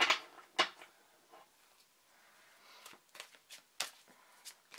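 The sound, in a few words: shuffling a tarot card deck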